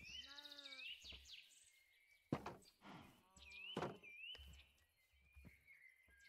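A Minecraft cow gives a couple of clear, drawn-out moos, with small chirping bird calls and soft game ambience between them.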